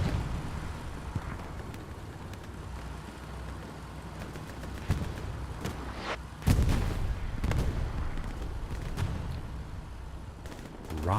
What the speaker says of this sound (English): rocket came over here to the side and wipes the repair station